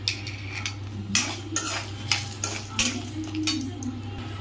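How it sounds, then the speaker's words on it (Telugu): Urad dal, dried red chillies and peanuts being fried in a pan, a steady low sizzle broken by repeated scraping and clinking of a spatula stirring against the metal, close by. "ఇలా వేపుతుండగా కొన్ని పల్లీలు కూడా వేసుకుని ఫ్రై చేసుకోవాలండి."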